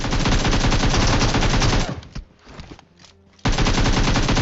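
Rapid bursts of automatic gunfire in the mobile battle royale game BGMI, loud and dense for two seconds, a brief lull with scattered quieter shots, then sustained firing resumes abruptly.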